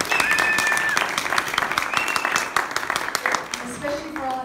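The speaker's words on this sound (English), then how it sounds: "I think that deserves another round of applause" Loud, sustained applause from an audience after a band performs a song learned that morning, dense clapping throughout with cheering voices and whistles rising over it, thinning toward the end.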